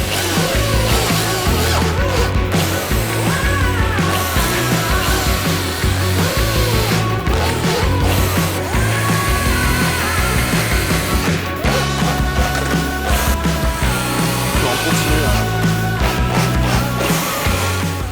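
A power drill bores into a metal plate lubricated with WD-40 cutting oil, a loud continuous grinding whir held at an even speed, mixed with dense background music throughout.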